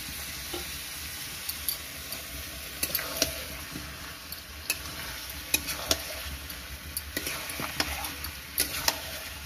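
Potatoes frying in oil with ginger, garlic, cumin and spices in a home kitchen, a steady close sizzle with scattered ticks and stirring scrapes throughout, no voices.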